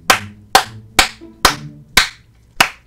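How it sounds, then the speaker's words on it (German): Six sharp, evenly spaced handclaps from a single person ring out close and loud, a slow deliberate round of applause with no voices. "Woo! Applaus."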